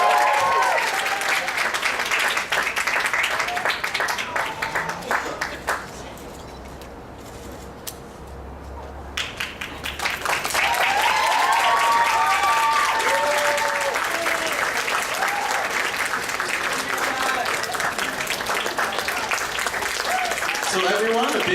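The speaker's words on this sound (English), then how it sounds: "a big round of applause again for Lyra B. Cat playing C2 from Code Geass." Audience applause at an anime convention cosplay masquerade, loud dense clapping that dips briefly in the middle and then swells again with cheers, continuing throughout with voices mixed in.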